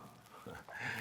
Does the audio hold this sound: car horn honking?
no